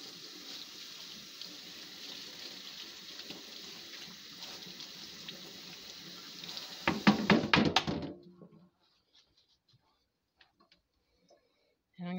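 Water runs from a kitchen tap while a spoon is washed, a steady hiss with a clatter of metal against the sink near the end, before the water shuts off and silence follows.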